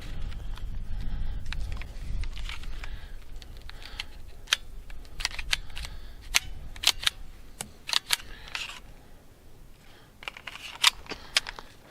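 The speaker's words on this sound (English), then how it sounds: "Let's try 15 rounds of the Federal ammo." Suppressed .22 pistol fitted with a Banish 22 suppressor firing Federal ammunition, a run of sharp, quiet clicking shots at an uneven pace, each a brief crisp snap over a low background rumble.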